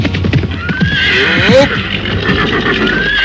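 A horse neighs loudly in a rising, wavering whinny amid hoofbeats clattering close by as riders are ordered to halt outside a royal city, with the noise of the mounts filling the scene.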